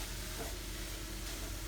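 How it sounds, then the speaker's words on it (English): Chicken breast cooks in a hot pan with a steady, close hiss and sizzle that is fairly quiet and unbroken. No one talks. "So I'm going to put my chicken breast in. We're gonna let that just"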